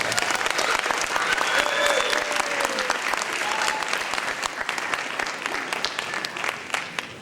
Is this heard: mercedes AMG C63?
no